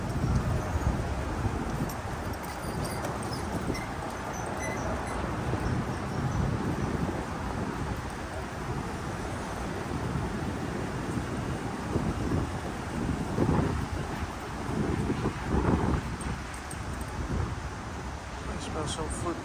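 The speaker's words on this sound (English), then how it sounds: "Oh, right now it's windy." Wind blowing outdoors, buffeting the microphone as a steady low roar for the whole stretch, with someone talking over it.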